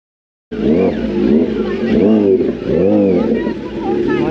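A superbike's exhaust bursts into a loud, close roar after a moment of silence, then revs up and down in rising and falling waves with a harsh, throaty rasp.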